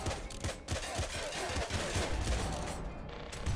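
Rapid bursts of the Starlight Spirit gun in Nuclear Throne, dense crackling volleys firing nearly nonstop, loud and close, no voice.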